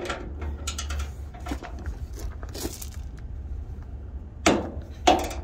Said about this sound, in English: now I'm using a regular socket and I'm using a long ratchet